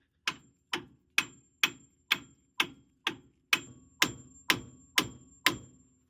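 Eleven evenly spaced metallic hammer blows strike the upper control arm of a 1997-2003 Ford F150 truck, each sharp crack ringing briefly, close by and with no talking.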